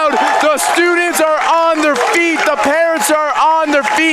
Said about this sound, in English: If you can't hear this crowd, get a hearing aid.